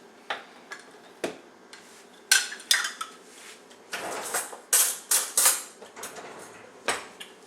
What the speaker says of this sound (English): So now I'm going to stir in our 5 cups flour,